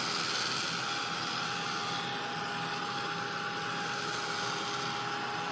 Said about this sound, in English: Just keep your heat tool moving.